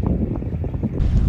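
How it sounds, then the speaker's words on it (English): Wind buffets a microphone beside a river in the Yukon wilderness during a solo canoe trip, a steady low rumble with gusty swells and no voices. "it's quite windy at the moment"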